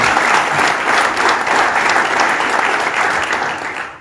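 An audience gives a sustained round of loud, dense applause at the municipal council and assembly swearing-in ceremony in Vizela, clapping evenly before tapering off at the end.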